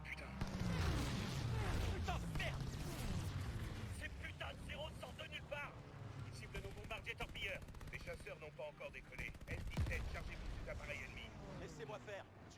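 Call of Duty Vanguard gameplay, probably in a Pacific air battle, with rattling bursts of machine gun fire, engine drone and booms mixed together under excited talking.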